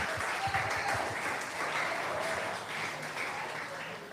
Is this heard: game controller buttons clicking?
no